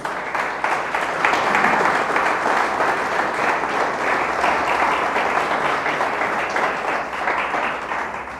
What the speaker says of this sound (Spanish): Dele un fuerte aplauso a Dios.